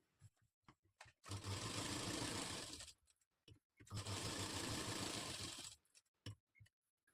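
A sewing machine stitches the lining of a katori blouse in two steady bursts of rapid whirring, each lasting a couple of seconds, with quiet clicks and handling sounds in the pauses between.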